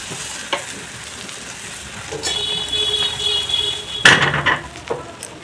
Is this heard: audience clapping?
no